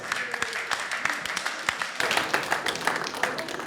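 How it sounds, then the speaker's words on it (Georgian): An audience at a GAMA Undisputed fight press conference claps steadily, with a dense patter of many hands that grows slightly louder midway. There is no voice over the applause. "საღო ბიჭებს, აპლოდისმენტები."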